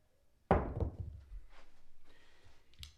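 A pair of dice is thrown onto a craps table: one sharp clatter as they land, then a short run of softer bounces and rattles, close and alone.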